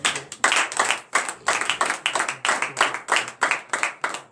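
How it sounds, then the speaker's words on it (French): A congregation at a morning prayer service in Benin claps in praise, loud and close, in strong rhythmic bursts roughly twice a second that repeat evenly throughout. "manifestez votre joie à la compte de l'Éternel en lui donnant de vives acclamations"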